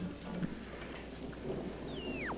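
A storm rumbles at sea near a Pacific island, steady rain and low thunder rolling faintly in the background, with a sweeping radio whistle rising near the end and no voices.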